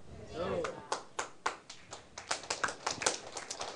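An audience at a political lecture claps, the claps starting scattered and building into irregular applause, heard over a low background.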